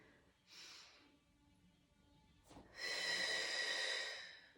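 Slow, close breathing during a Swiss ball core workout: a soft inhale, a quiet pause, then a longer, louder exhale, with no talking.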